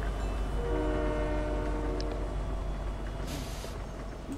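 A train rolls by in Fortnite, its horn sounding a steady tonal blast over a low rumble of wheels and cars, loud and close, with a brief hiss near the end and no talk.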